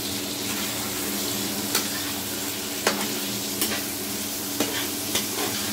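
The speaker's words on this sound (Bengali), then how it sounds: "সুন্দর করে কষাই নিচ্ছে" Crab curry stir-fried in a pan, a steady loud sizzle with occasional sharp scrapes of a spatula against the pan, continuous and close throughout.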